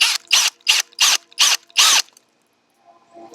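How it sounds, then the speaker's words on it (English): Milling the pocket of a switchblade knife handle from a Schrade SC90B kit: six loud, regular bursts of cutting noise about a third of a second apart, then a faint low rumble. "You can see I'm milling out the pocket there"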